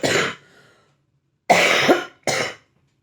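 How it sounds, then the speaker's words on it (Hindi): A woman coughs three times in loud, close bursts, one long harsh cough followed after a pause by two shorter ones, with silence in between and no talk. "मेरे को कितनी खांसी है"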